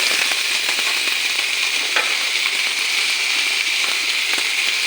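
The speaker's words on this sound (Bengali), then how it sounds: "এগুলো একটু ভাজা ভাজা করে নিই ফুলকপি টমেটো ওগুলো দিয়ে দেবো" Cauliflower and tomato fry for a Maggi vegetable soup, filling the pan with a loud, continuous, crackling sizzle and occasional stirring scrapes.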